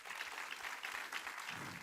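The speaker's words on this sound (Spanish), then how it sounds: "Demos un fuerte aplauso al Rey." A church congregation applauds, a faint, continuous wash of many hands clapping heard from a distance.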